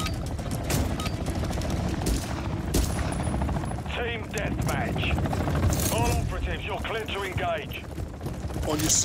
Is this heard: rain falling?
no